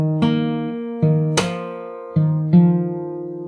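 Fingerstyle acoustic guitar plays the melody of a song slowly, with five clear plucked notes and chords ringing one after another, close and alone.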